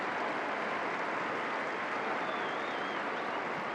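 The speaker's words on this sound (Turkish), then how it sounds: "Ve Galatasaraylı futbol severlerde alkışlıyor Buyalski'yi" Galatasaray supporters in a football stadium applaud after a 14th-minute goal against Dinamo Kiev, a steady dense wash of clapping and crowd noise that holds at an even level from start to finish with no voices standing out.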